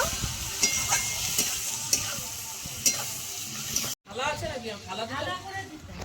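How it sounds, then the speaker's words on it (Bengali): A spice mix of chili powder, turmeric and sugar fries in oil for a pointed gourd and prawn curry. A steady sizzle runs under regular spatula scrapes and stirring clatter, and a voice talks over the later part. "হলুদ গুঁড়ো, স্বাদ ব্যালেন্সের জন্য চিনি দিয়ে ভালো করে মশলাটা কষিয়ে নেব।"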